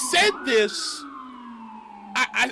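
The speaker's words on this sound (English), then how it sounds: "Pardon the sirens, ladies and gentlemen. This is New York." A wailing emergency vehicle siren sweeps down in pitch on a New York street, then fades, while a voice talks over its start and end.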